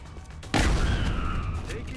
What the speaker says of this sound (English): But listen to that boom.